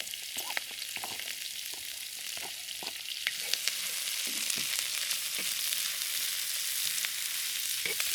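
Beef, bean sprouts, red pepper and red onions stir-fry in a pan with a steady, close hiss of sizzling oil, broken by the irregular scrape and clack of a utensil stirring through the food.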